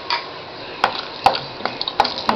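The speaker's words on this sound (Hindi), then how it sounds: "fry the kaju" Cashews frying in ghee in a hot kadai, with a soft crackle underneath and a few sharp metallic clicks and scrapes of a spoon stirring them, spread across a short stretch.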